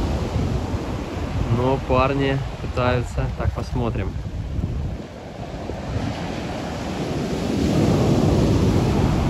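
Stormy sea waves at Sochi roll and wash onshore in a loud, continuous roar, with wind buffeting the microphone and someone speaking over the surf partway through.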